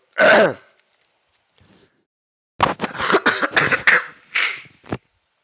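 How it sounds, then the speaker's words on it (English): A single throat-clearing burst, then after a pause a run of several harsh coughs in quick succession, close and fairly loud. "Been a bit ill, so excuse my coughing."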